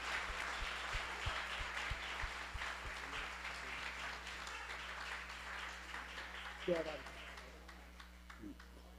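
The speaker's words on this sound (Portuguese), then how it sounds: "Aplauda Jesus. Dê uma salva de palmas." Church congregation applauding during a Portuguese-language worship gathering, a steady wash of clapping across most of the span with voices underneath and a low hum, fading toward the end.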